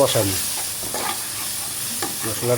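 Coriander powder masala being stir-fried in a pan, a close continuous sizzle with a few scraping strokes of the stirring spoon.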